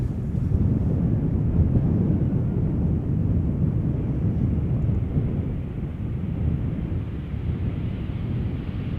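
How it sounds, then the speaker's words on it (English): A 15-year-old KLM Embraer 190 jetliner arrives at Schiphol Airport, heard as a loud, continuous low roar of engine and wind noise that holds steady, with no voices. "KLM Flight 1582 arriving from Bologna, Embraer 190, 15 years old."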